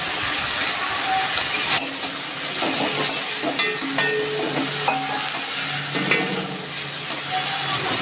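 Teasel gourd leaf paste with a little turmeric and salt fries in a pan, a loud continuous sizzle and hiss with scattered small pops and spatula scrapes, heard up close with no voices.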